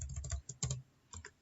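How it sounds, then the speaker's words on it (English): Keys clicked on a computer keyboard, a quick cluster of taps followed by two short separate key presses, close and fairly quiet, no voices. "You can just press Ctrl S on your keyboard."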